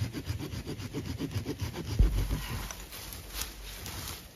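A bow saw cuts through wood outdoors at a rural survival bunker property, producing a close, rhythmic series of rasping back-and-forth strokes that gradually fade into a softer scraping toward the end.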